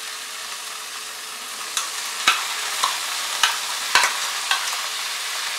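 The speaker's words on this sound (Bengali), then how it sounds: "আদা রসুন ফ্রাই করার পর আমি এর মধ্যে অ্যাড করে দিচ্ছি ম্যারিনেট করে রাখা চিকেন।" Marinated chicken hits a pan of fried ginger and garlic with a steady sizzle, punctuated by a handful of sharp clacks from stirring, spaced a second or so apart, fairly close and moderately loud with no voices.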